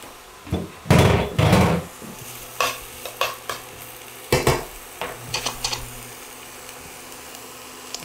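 Chopped onion goes into a hot pan with rice and is stirred, giving a burst of sizzling followed by repeated scraping and clattering stirs against the pan, fairly close and without talk.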